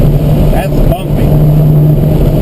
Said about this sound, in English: I'm hitting these bumps pretty hard.